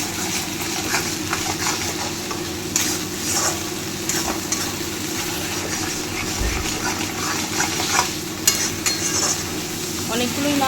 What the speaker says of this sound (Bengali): তার সাথে পোস্ত চার মগজ কাজু আর টক দই সবগুলো দিয়ে এবার নাড়াচ্ছি ভালো মতো